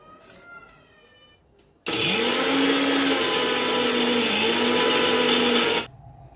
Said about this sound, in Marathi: मिक्सरला हे फिरवून घेऊ